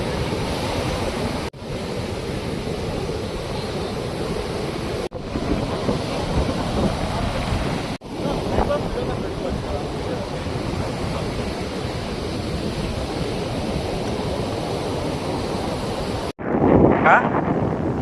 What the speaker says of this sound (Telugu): నేనైతే ఇప్పుడు నెల్లూరులోని కాటేపల్లి బీచ్లో అయితే ఉన్నాను